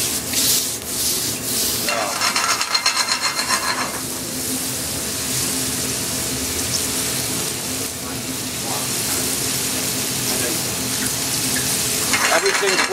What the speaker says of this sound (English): Got to keep moving your mushrooms in the frying pan.